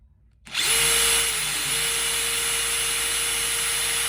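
A Dewalt DCF850 cordless impact driver spins up after a moment of silence and runs loud and steady at high speed, its whine holding close and continuous to the end.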